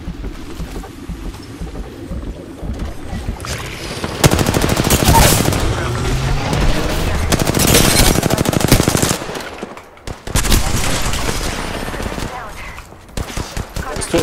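Rapid bursts of machine gun fire from a video game, loud and dense, with shooting bouts separated by short lulls while players talk over the gunfire.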